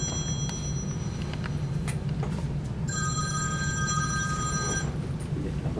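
A telephone rings during an interview with a poet, its repeating electronic tone surfacing midway for about two seconds over a steady low room hum; no voices are present.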